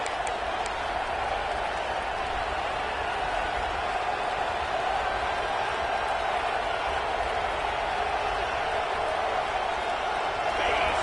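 A roaring stadium crowd in a Madden NFL game on PS5, a dense, continuous wash of noise at steady volume throughout, with no distinct voices standing out.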